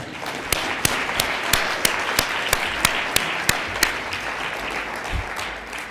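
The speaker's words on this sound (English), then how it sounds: "let's have a round of applause for Kathy Mason that she can hear" Applause for Kathy Mason at a closing event, a steady wash of clapping with a series of sharp, evenly spaced louder claps standing out above it, moderately loud throughout.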